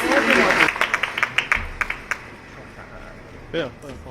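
Applause from the audience at a company's 20th anniversary celebration as the director general is called up, clapping heard under a speaking voice at first, then thinning to a few scattered claps before fading.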